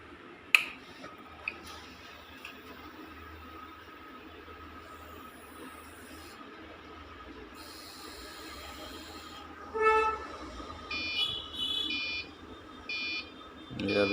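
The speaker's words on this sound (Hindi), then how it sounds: "ये अभी बैटरी लगानी है सिर्फ मेन पे, इसलिए बीप साउंड करेगा" A 3 kVA Autoronica online UPS running on battery gives short repeated electronic beeps near the end, after a long quiet stretch of low hum with a couple of sharp clicks near the start.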